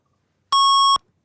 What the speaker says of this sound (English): At the sound of the tone,